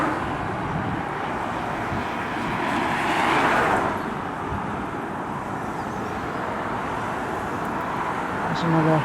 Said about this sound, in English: There's another Scania New Gen from Dent Logistics from Penrith in Cumbria, and another walk-in Ford.